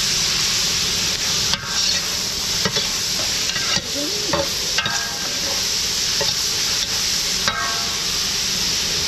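Ground meat and onions stir-frying in a pan, sizzling steadily while a spatula scrapes and turns them in repeated strokes, close and fairly loud, with no talking.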